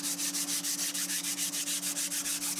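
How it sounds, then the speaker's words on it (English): A Scotch-Brite pad scrubbing the gasket surface of a cylinder head in a machine shop, a steady, rhythmic, close rasping stroke repeated about six times a second over a constant low mechanical hum. "using the Scotch-Brite, they're just cleaning up the rest of the head here"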